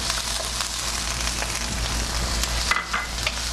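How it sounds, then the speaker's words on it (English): Chopped onions sizzle and fry steadily in oil in a wok over medium-high heat, a close, continuous crackle with no talking. "It's on medium high, and I'm doing the adding the chopped onions."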